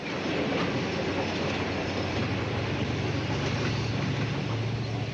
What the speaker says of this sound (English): Brezhnev's private train stopped here, at the railway station of Mineralny Vody